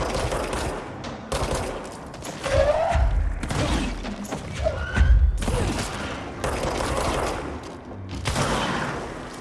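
Bursts of rapid gunfire and heavy thuds from the action video game Control, loud and close, coming in repeated volleys separated by short lulls, with low booms underneath.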